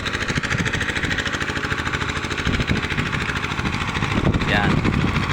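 A pump engine runs steadily during a farm test, a close, rhythmic mechanical chug with a constant pulse, and a voice talks briefly near the end.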